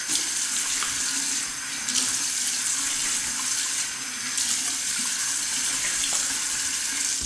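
Tap water runs steadily into a bathroom sink as a face is wetted before a wet shave, a continuous close hiss with a faint splash variation and no talking.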